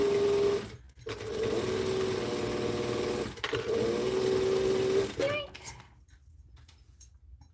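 A sewing machine stitches a quilt in two long steady runs, each broken by a short pause. The whirring is close and loud, and faint handling noises follow as it stops.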